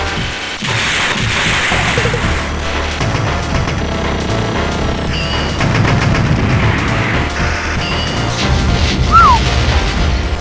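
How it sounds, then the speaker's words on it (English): Bombs exploding in the shoot-'em-up Cho Ren Sha 68K, a dense, loud barrage of crashing blasts and booms that runs without pause over busy game sounds, with no voices. "Just going to use the bombs for the end of it."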